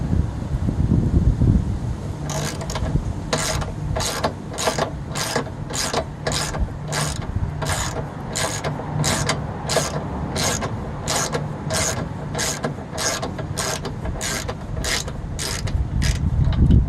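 A hand ratchet wrench clicks in a steady, rapid run of sharp ratcheting strokes on the rear sway bar bushing bolts of a 2003 Honda Element EX, close and continuous over low background rumble.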